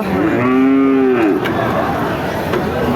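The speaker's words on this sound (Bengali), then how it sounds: "এই যে একটা গরু দেশাল জাত দুই দাঁত হয়ে গেছে" A deshal breed cow with two teeth at a cattle market gives one loud, close, drawn-out moo, followed by a steady murmur of market noise.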